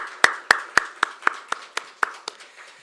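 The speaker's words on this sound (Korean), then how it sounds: "우리 찬양대에게는 격려의 마음 담아서 크게 박수 한번 할까요?" Hands clap for the choir at a Methodist church service, about ten sharp, evenly spaced claps in a steady rhythm that sound close and sparse, like only a few people, fading slightly toward the end.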